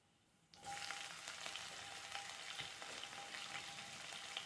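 Cumin seeds hit hot oil for sabudana khichdi and burst into a loud, steady sizzle that starts abruptly and crackles on continuously up close.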